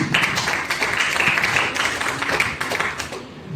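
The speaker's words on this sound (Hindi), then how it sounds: "जोरदार तालियां होनी चाहिए।" An indoor audience at a direct selling training session claps steadily and loudly, the dense applause holding for a few seconds and then tapering slightly.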